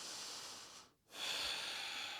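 One breath during a standing hip mobility exercise: a steady airy exhale, a short pause of silence, then a long breathy inhale, close and alone.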